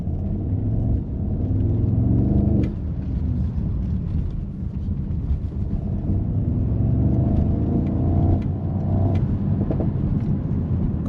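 A 2025 Mercedes-AMG SL 63 S V8 exhaust roars and revs loudly and close by, a steady deep rumble with surges in pitch around a few seconds in and again later, with no talking.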